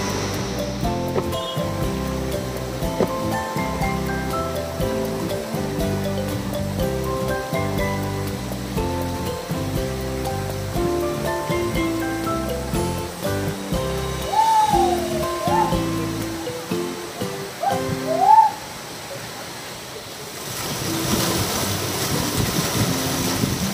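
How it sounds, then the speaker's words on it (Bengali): A waterfall at Lungthung in East Sikkim roars steadily as a broad, continuous wash of water noise under background music, with a brief louder rise near the end. "জলটা আস্তে আস্তে পড়ছে নিচের দিকে"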